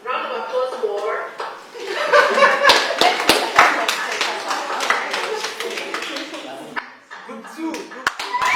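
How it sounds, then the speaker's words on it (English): A room of participants at a digital skills training bootcamp gives a round of applause for the winning team, dense steady clapping mixed with chuckles and laughter and some voices throughout. "Round of applause for."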